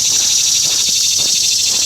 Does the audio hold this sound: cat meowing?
no